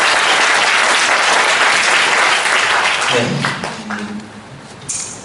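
Big, dense applause from an audience at a book concert lecture, loud and continuous for several seconds before thinning out and trailing off with a few late claps.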